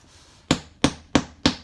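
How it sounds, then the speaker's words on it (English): Golf tees or nails being hammered in outdoors: four sharp, evenly spaced knocks, each loud and close with a quick decay. "you could do this with golf tees or chopsticks or real nails, and you just hammer them in"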